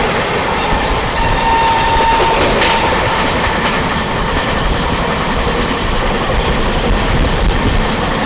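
The Kumbha Express (12370) carries on at speed through an AC coach with a steady, loud clickety-clack of wheels over rail joints, a constant rumbling roar and a brief high tone; no one speaks.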